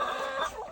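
Backyard hens in a snowy coop give a brief, close, steady clucking call, alone and without talk.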